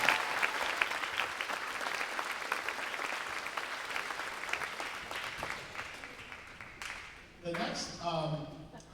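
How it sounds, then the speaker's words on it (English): Concert audience applauding for a group of student performers, a dense sustained clapping that thins and fades toward the end, where a voice begins speaking over the last claps. "let's give all of them a round of applause for all of them"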